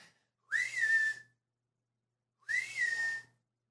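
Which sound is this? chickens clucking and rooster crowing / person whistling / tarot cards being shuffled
person whistling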